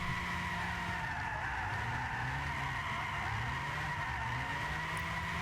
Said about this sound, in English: it definitely has enough power to slide the wheels, even with comfort hard or soft tires or medium